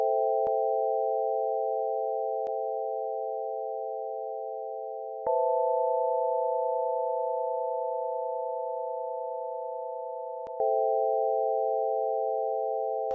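Steady pure synthesizer tones hold in long sustained notes that change pitch twice, clean and electronic with faint clicks at the transitions.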